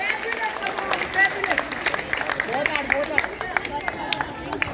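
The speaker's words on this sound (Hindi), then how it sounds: "जोरदार तालियां पीछे तक, आप सबकी भी तालियां आनी चाहिए इन बच्चों के लिए" Audience at an outdoor street play about saving the environment applauds the child performers, a dense wash of steady clapping with crowd murmur and scattered voices mixed in.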